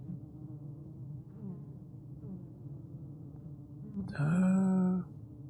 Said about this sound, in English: Stop staring at bees.